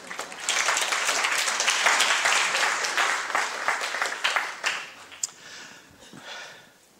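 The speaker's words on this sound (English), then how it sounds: "Please give yourselves a round of applause." Audience at an education presentation claps in a dense, loud round of applause that swells for a few seconds, then thins into scattered claps and fades out.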